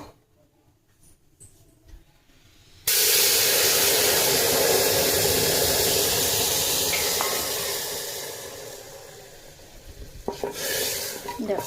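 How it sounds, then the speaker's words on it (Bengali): Boiling water pours into a pot of fried dalia with curry leaves for khichuri, setting off a sudden loud, sustained hissing sizzle that slowly settles and is followed by light stirring clatter. "তো এখানে আমার জলটা ফুটে গেছে, এবার আমি জলটা ঢেলে দেবো এর ভেতরে।"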